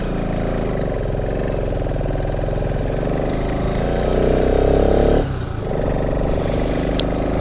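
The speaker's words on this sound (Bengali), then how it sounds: "এতটা খাড়া রাস্তায় গাড়িটা টানে আমার 200 সিসির বাইক" A 200cc motorcycle engine labors up a steep mountain road near Nathula Pass in Sikkim, giving a loud, close, steady low drone that swells into a harder strain, then dips briefly before carrying on.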